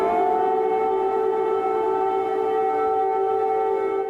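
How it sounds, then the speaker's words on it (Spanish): An air raid siren sounds in Kyiv as one loud, steady wailing tone that holds throughout with no talk over it. "Y es que las sirenas suenan en Kiev"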